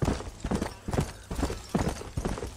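A horse gallops in the video game Red Dead Redemption, its hoofbeats pounding in quick, loud rhythmic clusters that repeat without pause and carry no talk over them.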